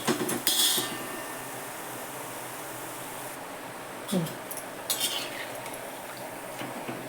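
Sev for laddu frying in hot oil gives a steady soft sizzle, broken by sharp metal clinks of a utensil against the pan near the start and again later.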